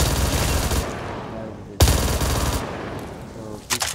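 Rapid automatic gunfire from a small gun in Call of Duty Black Ops 3, two dense sustained bursts separated by a sharp break, loud and close, ending with a few scattered shots.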